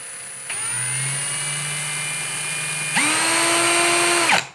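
A Litheli U20 cordless drill motor starts with a low whir, holds steady, then jumps abruptly to a higher, louder whine before cutting off, so the speed rises in distinct steps rather than smoothly. It is heard close and alone.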